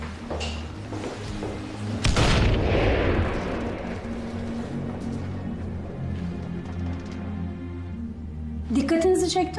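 Artillery and gunfire during wartime, a heavy burst of blasts and thuds with rumbling low noise continuing throughout, and another sharp crack near the end; no one speaks.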